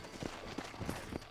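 Horse hooves clip-clop in a steady walking rhythm in the Western video game Red Dead Redemption, four or five soft thuds over a dense, constant background.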